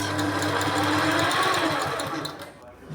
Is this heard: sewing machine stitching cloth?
yes